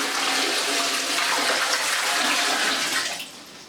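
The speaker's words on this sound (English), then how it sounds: "fill a bucket up with water from the bath and then just pour it down there quickly" A bucket of bath water is poured quickly into a close coupled toilet bowl, a loud rushing gush of water that holds steady for about three seconds before tapering off.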